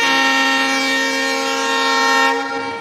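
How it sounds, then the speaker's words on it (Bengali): A departing Chitra Express sounds one long, loud, sustained whistle at Daulatpur railway station, close by and steady before cutting off near the end. "দেখুন ট্রেনের যে হুইসেল, অর্থাৎ এই হুইসেলের মাধ্যমেই সে জানান দিচ্ছে যে সে এবারে আর কি যাত্রা শুরু করছে"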